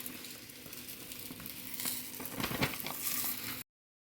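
Kayi holige, a coconut-filled obbattu, frying on a hot pan with a steady, close sizzle that thickens and crackles more toward the end before cutting off.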